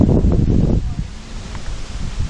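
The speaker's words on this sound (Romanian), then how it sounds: "Bă, dar ce-i cu vântul ăsta?" Wind buffets the microphone outdoors in low rumbling gusts, loud at first and then easing to a steadier rough rush.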